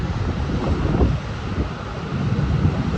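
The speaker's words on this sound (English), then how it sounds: "The wild crashing of waves," Wild ocean waves crashing against rocks, a steady roaring surf with broad rumbling swells and wind buffeting the microphone, loud and continuous without voices.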